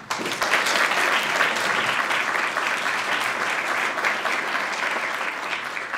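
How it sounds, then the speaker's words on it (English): An audience at an honors programs' 50th anniversary celebration applauds steadily, a dense, even wash of clapping that holds at a moderate level from start to finish without talk. "Please Join me once again in applauding UHP, IS, DHC, and all our alumni."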